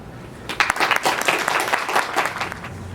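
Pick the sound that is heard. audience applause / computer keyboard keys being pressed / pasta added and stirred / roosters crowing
audience applause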